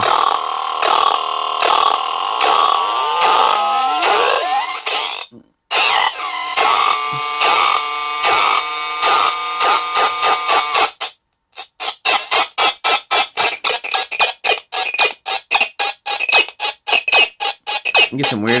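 Loud electronic chirps and warbling squawks from a Sismo Qad4 synthesizer module sweep up and down in rapid bursts, then break into choppy, stuttering pulses, with brief silent gaps.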